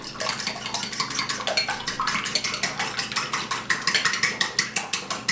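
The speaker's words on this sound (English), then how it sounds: "you're going to take your fork, or you can, if you have a whisk, we're going to mix this down" A fork beats an egg mixture for French toast in a bowl, a rapid, even series of close, loud clinking strokes against the dish, continuing steadily without talk.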